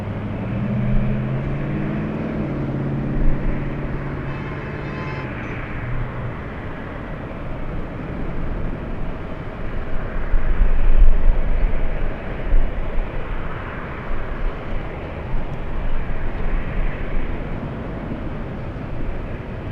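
A Delta Boeing 767-300 airliner at LAX makes a continuous low jet roar that swells louder midway and then eases, heard from a distance with no talking.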